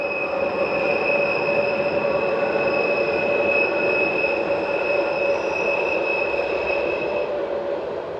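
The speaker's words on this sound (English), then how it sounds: "Motor luggage van DE44 number 24 is at the head of the 1227 from Andermatt" Swiss DE44 motor luggage van number 24 heading a train from Andermatt, heard as a steady, loud rolling rumble with sustained high wheel squeal throughout, no voices.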